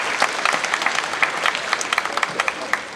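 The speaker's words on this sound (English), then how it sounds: "And let us applaud." Audience applause at a graduation ceremony, a dense, steady clapping from many hands with scattered sharper claps standing out, moderately loud and continuing throughout with no talk over it.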